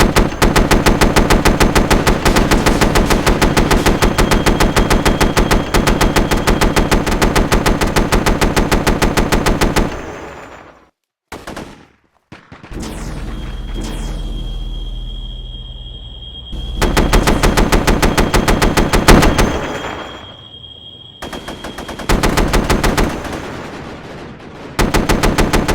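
Sustained machine gun covering fire in a Minecraft mod pack battle, loud rapid bursts that cut out briefly then return alongside heavier gunfire and a steady whine, no voices.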